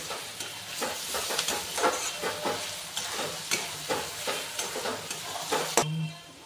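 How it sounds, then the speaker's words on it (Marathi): Ginger garlic paste sautés in a hot pan with a continuous sizzle, while a spatula stirs it in steady, rhythmic scraping strokes close by. The stirring stops just before the end, and no one speaks. "अद्रक लसूण पेस्ट आपण चांगल्या प्रकारे परतून घेऊया"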